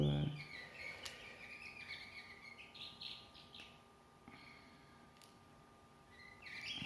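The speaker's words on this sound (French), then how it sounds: "des bruits d'oiseaux" Small birds chirp and tweet at a distance, scattered calls over a quiet outdoor background.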